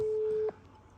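An outgoing phone call plays a ringing tone, a single steady electronic tone lasting about half a second before it cuts off to near silence.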